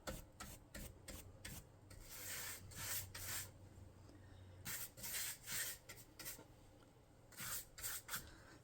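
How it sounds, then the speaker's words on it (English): Dark wax being rubbed onto the side of an Ikea cabinet, with faint close brushing and rubbing strokes in uneven bursts and short pauses between them. "I'm going to give it a quick wax."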